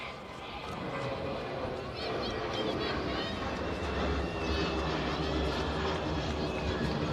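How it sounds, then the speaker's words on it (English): Airplane engine droning steadily overhead at a high school softball game, a continuous broad roar running the whole time beneath an announcer's play-by-play and crowd noise. "Next plane overhead"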